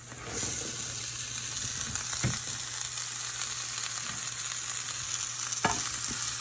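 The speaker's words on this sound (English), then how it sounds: "And now we are going to add our cabbage" Cabbage sizzles in a skillet beside kielbasa, a steady bright frying hiss running throughout with a faint constant hum, a couple of soft knocks, and no talking.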